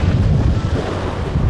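Wind rushes steadily and loudly across the microphone aboard a sailboat off the Swedish coast in a force four to five breeze, with a dense low roar and possible water wash, and no one talking.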